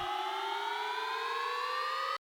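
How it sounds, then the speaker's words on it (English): A synthesized riser from Virtual Riot's Heavy Bass Design 3 sample pack, a bright, buzzy tone stack sweeping steadily upward in pitch for about two seconds, then cutting off abruptly. "we have this riser from Virtual Riot's Heavy Bass Design 3"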